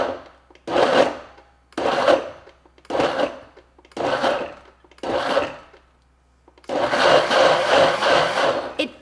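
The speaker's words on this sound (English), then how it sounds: "So we're gonna turn the Ninja Foodi blender on and I'm gonna pulse a few times." Ninja Foodi blender pulsing asparagus soup ingredients in five short bursts with brief pauses between, then one longer continuous run, loud and close with no talking.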